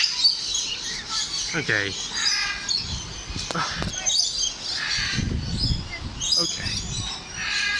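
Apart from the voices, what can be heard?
red-fronted macaws and parrots calling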